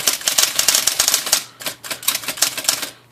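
A Smith Corona Coronamatic electric typewriter runs after a power cord replacement, its keys striking in rapid bursts of crisp clacks with brief pauses and a low motor hum underneath, close and loud.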